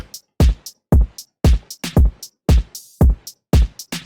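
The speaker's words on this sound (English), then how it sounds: "hi-hats" An electronic drum beat for a song pairs steady, punchy kick thumps with crisp hi-hat ticks between them, a loud, tight, repeating pattern with no voices.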